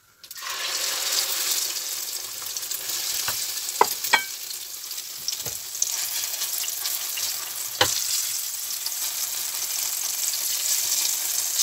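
Eggplant omelet mixture sizzles steadily in a frying pan, a constant close bright hiss with a few soft clicks and taps of utensils, no talking.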